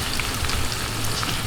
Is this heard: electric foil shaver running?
no